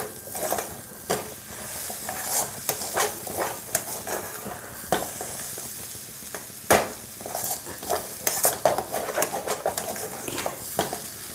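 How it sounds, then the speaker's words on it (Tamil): Banana flower stir-fries in oil with a soft sizzle under frequent scraping and clattering of a spoon against the pan, irregular knocks punctuating the frying. "எண்ணெய் ஊற்றிட்டு நல்லா பரட்டிடலாம்."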